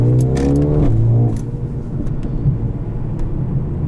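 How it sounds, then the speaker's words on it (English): A 2021 Mercedes-Benz CLA 35 AMG engine heard from the cabin, loud and close, revving up in a rising tone, then dropping abruptly on an upshift and pulling on at a lower, rumbling pitch. "I love the upshift"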